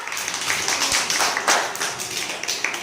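Children clapping together in a classroom during a body-parts lesson, a dense burst of many small hands patting at once, close and lively for about three seconds.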